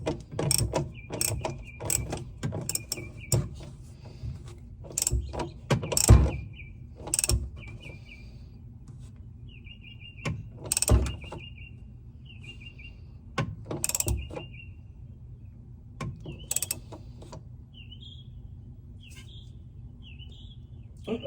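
A wrench works a bolt tight on a Corvair in short, sharp metallic clicks and scrapes spaced irregularly, with birds chirping and tweeting faintly in the background and no talking.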